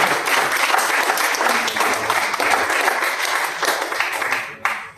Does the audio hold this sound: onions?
no